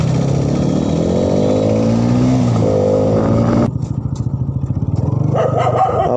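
A 199.5cc motorcycle engine revs loudly and steadily, then drops to a lower, pulsing idle with a rough, throbbing rhythm close by.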